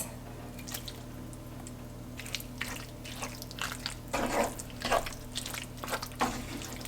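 Canned artichokes going into a warm pan of spinach artichoke dip over low heat, giving soft wet plops, squishes and drips in an irregular series, fairly quiet and close.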